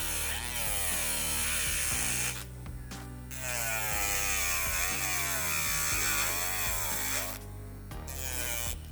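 An electric nail drill whines steadily while shaping and cleaning the sides of an encapsulated nail, its pitch wavering and dipping under load, with a couple of brief pauses.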